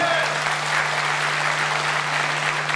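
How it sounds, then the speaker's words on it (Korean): Audience applause at a public hearing for a football club, continuous even clapping from a room of people, with a steady low electrical hum underneath. "박수 한 주시기 바랍니다"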